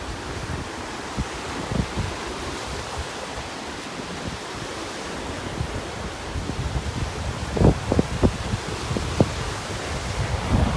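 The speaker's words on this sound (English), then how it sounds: "Whoa, that wind is blowing here." Strong wind from the south gusts over a North Naples, Florida beach where churned-up surf crashes steadily, with a dense hiss and rumble and a few sharper bumps of wind buffeting the microphone.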